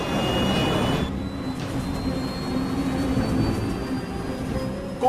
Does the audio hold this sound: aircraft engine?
yes